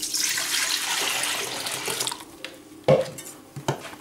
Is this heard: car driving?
no